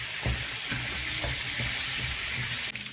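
Cooked shrimp fry in oil in a pot, a continuous close, loud sizzling hiss with faint stirring knocks mixed in.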